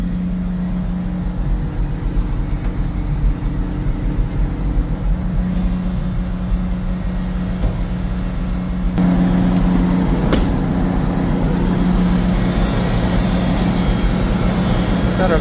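A 1963 Ford F600 truck engine running at a high idle, a steady low rumble that holds throughout and grows slightly louder partway through.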